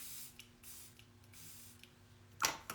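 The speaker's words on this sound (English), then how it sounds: "you would just spray an oil mist on your face" A quick burst of fine oil mist sprayed onto the face during a Korean skincare routine, one short, breathy hiss near the end after quiet handling sounds, close and fairly soft.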